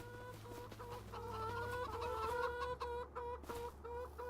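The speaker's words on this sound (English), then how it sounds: "this right here is my rooster, Albert Eggstein" A farm rooster and hen making repeated clucking calls close by, a steady run of short throaty notes with a low hum beneath.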